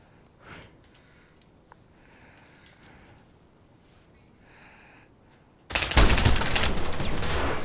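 Gunfire in the VR shooter game Pavlov: after a long quiet stretch with faint rustles, a loud, dense burst of rapid shots erupts near the end and keeps going without a break.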